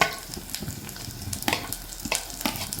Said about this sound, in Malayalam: നന്നായിട്ട് ഇതൊന്ന് വഴറ്റിയെടുക്കാം